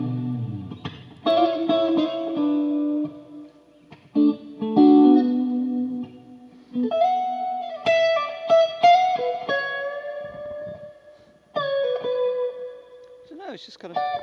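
Clean electric guitar through a Brunetti amp with a touch of reverb, playing separate chords and single notes with ringing decays and brief gaps, close and clear with no talking.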